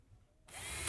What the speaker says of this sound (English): screwing the top plate to the header.